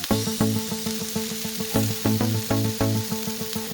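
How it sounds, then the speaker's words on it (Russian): Pieces of meat searing in a pan over medium heat give a steady, close sizzle, partly masked by loud rhythmic music with repeated notes throughout. "И также жарим на среднем огне."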